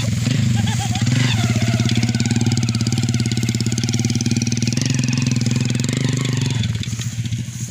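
Motorcycle engine chugging in deep mud, a loud rhythmic low putter running steadily before easing slightly near the end, with voices faintly audible over it.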